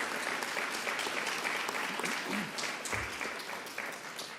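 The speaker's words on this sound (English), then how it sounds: "Let's give her another round of applause." Audience applause for Governor Kathy Hochul at a Long Island event, a steady wash of many hands clapping from a crowd, holding evenly throughout and tapering slightly at the end.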